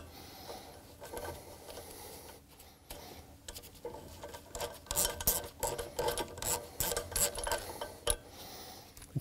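A wrench turns a 24 mm left-threaded nut on the seed disc of a Väderstad Tempo planter row unit. The metal rasps and rubs in uneven bursts that grow busier and louder toward the end, with no one talking.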